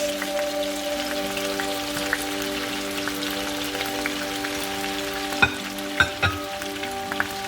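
Cauliflower, carrots, celery, broccoli and cabbage sizzling in a pan for chop suey, a steady crackling hiss like light rain with a few sharp clicks near the end and a low hum underneath.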